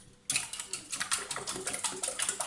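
Vegetable oil and two eggs being whisked for börek batter: rapid, rhythmic clicking and tapping strokes close by, starting after a brief quiet moment and continuing steadily.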